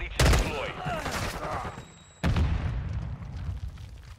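M16 burst rifle fire in Modern Warfare II: loud sharp bursts of shots, a heavy volley at the start and another crack partway through, with lingering echoes and battle noise between them.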